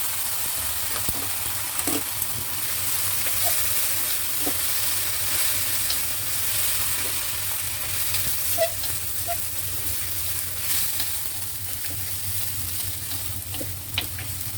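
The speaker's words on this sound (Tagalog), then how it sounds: "At ilagay na natin yung ating pasta." Garlic shrimp sauce sizzles steadily in a pan as spaghetti goes in, a continuous frying hiss with soft stirring clicks and scrapes throughout, no talking.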